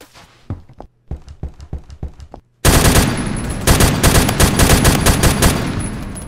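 Rapid gunfire from a video game gun with heavy recoil in AdventureQuest Worlds: loud clusters of shots, with a quieter, sparser volley first, then a dense, sustained burst of fire that fills the rest.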